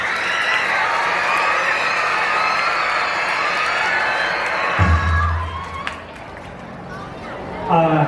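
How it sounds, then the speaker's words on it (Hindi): Crowd at a children's dance performance breaking into applause and cheering, a loud, busy roar of claps and shouts that drops off midway, leaving murmured chatter and a few scattered voices. "हमारे दीपक सर और विष्णु सर इन दोनों के लिए जोरदार तालियां हो जाए।"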